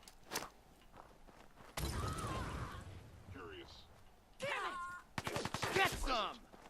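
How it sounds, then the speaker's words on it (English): Gunners open fire in Fallout 4 with short cracks and then a dense second-long burst of shots, while a voice talks over later moments. "Why am I being shot at like crazy?"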